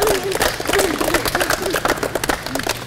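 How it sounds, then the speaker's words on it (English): A steady burst of audience applause and clapping for a student in an English lesson, continuous and fairly loud throughout, with a voice speaking over it. "Round of applause for Takaru."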